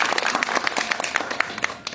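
Audience applause at a party event, a steady burst of many hands clapping close by, dense and even for about two seconds with no talk over it.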